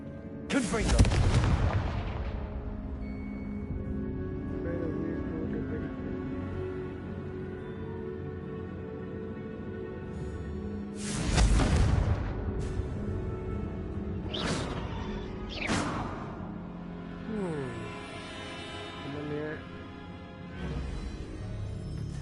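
A Confringo blasting spell in Hogwarts Legacy, set in a tomb: a heavy booming explosion opens, followed later by another big blast and a few shorter sharp pops over a low ambient hum.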